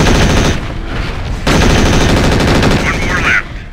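Rapid mech machine-gun fire in MechWarrior 4 during an attack on a dropship, loud, dense bursts almost continuous with a brief break, up close in the game mix.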